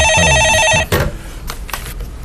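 A studio telephone on a live stock-market call-in show trills loudly for under a second, then stops abruptly as the line is picked up, leaving faint handling noises.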